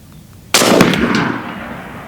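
A single sharp, loud report from an Element Max PCP .50-caliber air rifle fired outdoors at a small distant target, with a sudden crack followed by a quickly decaying tail.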